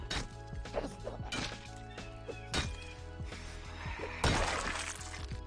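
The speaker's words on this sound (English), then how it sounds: "Hit her from behind. Smashed her over the head." Repeated crunching smashes and thwacks from blows landed over an enemy's head in a Batman video game, a string of sharp impacts over a steady game soundtrack, with a heavy crash near the end.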